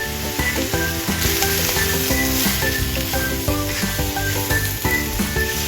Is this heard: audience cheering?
no